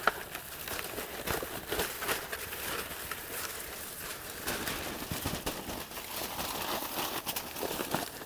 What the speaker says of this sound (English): So we'll go ahead and unwrap the turkey now.